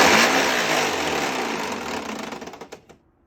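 Hoover WindTunnel Supreme vacuum cleaner motor running loud and close with a harsh rushing whine, then winding down and cutting off near the end with a few rattling clicks.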